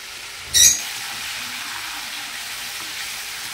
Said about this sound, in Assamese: এতিয়া হালধি নিমখ দি এইখিনি ধুনীয়াকৈ ভাজি ল'ম